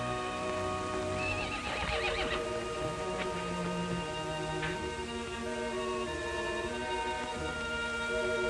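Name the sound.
horse neighing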